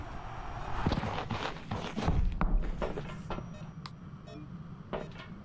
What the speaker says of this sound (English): Can't tell if it's my own footsteps or not, because this game's weird